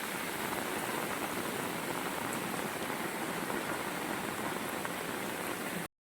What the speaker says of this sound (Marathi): एवढा पाऊस जोरात सुरू आहे